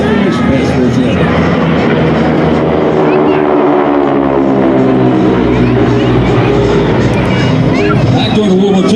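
Warbird airplanes pass in a big trail formation at the Leesburg Airshow, a loud, continuous roar of piston engines sweeping overhead with shifting drone and crowd noise, while an announcer talks over it.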